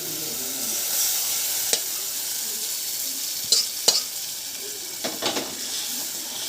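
Dill and spinach greens cook in a pan with turmeric and salt, giving a soft, steady sizzle with occasional sharp spoon taps and scrapes as they are stirred.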